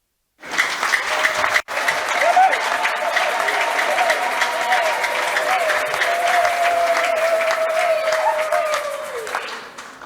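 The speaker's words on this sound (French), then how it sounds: "je demande à l'Assemblée d'applaudir" Sustained applause from a church assembly of parish faithful, loud and steady for about nine seconds after a brief break, with a sung or voiced tone running over the clapping.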